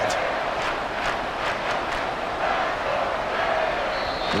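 Stadium crowd at a Rams vs. Dolphins football game roaring steadily near the goal line, a broad, sustained wash of cheering with scattered shouts and whistles rising through it.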